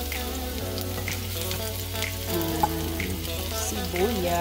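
Garlic and onion sizzle steadily in a hot pan for a Filipino mung bean dish, with a constant close frying hiss over a low droning hum and a few soft stirring bumps.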